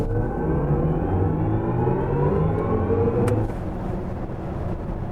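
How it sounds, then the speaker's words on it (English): A BMW iX M60 electric car accelerates hard in sport mode, a steady loud whir and rumble that rises in pitch over about three seconds and then eases off. "let's see how well this car picks up speed"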